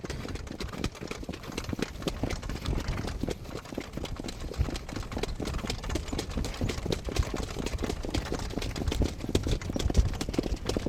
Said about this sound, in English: Now he's in a canter and we're off.